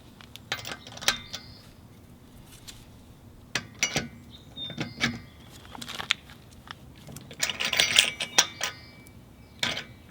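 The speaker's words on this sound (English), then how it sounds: "So I'm just going to use this normal wheel wrench and the wheel lock." A hand wheel wrench and a wheel lock work the lug nuts off Moteki wheels, giving scattered metallic clinks, taps and ratchety clicks in irregular bursts close by, with quiet pauses between them.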